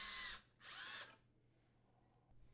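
A power drill boring pilot holes in a dishwasher door panel: two short loud whirring bursts close by, separated by a brief pause, then quiet.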